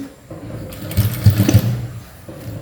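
A sewing machine runs a top stitch along the folded edge of a half-shoulder blouse, a short burst of rapid mechanical stitching that rises and fades within a couple of seconds, close and clear with no talk.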